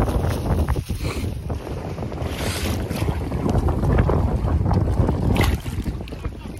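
Strong wind buffets the microphone in loud, rumbling gusts, with water sloshing against a small fishing boat underneath on Grand Lake.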